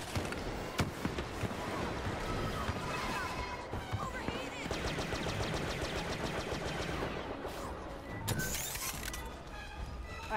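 Gunfire in a Star Wars video game, rapid shots and bursts crackling through a dense, busy battle mix of blasts and effects, steady and loud throughout, with a player's voice talking over it at times.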